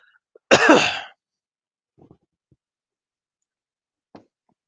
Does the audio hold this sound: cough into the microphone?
yes